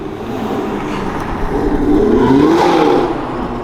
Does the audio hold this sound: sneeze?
no